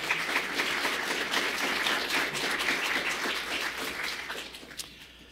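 A room of people applauding at a city council meeting, a dense wash of clapping that holds steady and then fades out over the last second.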